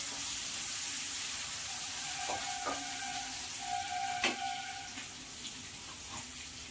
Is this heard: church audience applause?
no